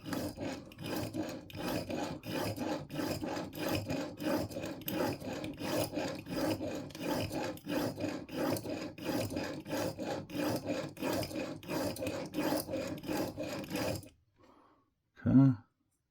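A curved broadhead rasps back and forth on a KME broadhead sharpener in steady, rhythmic strokes, close and fairly loud, for most of the clip before stopping, followed by a short quiet gap and one brief knock.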